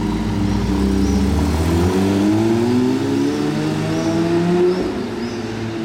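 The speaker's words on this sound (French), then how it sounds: "Le bruit lui va tellement bien à cette voiture" Ferrari 812 with a Novitec N-Largo kit and its V12 engine revving loud and close, the pitch climbing and sweeping in repeated waves with no voices over it.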